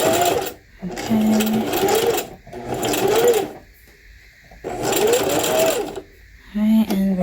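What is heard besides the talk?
sewing machine stitching hair weft bundle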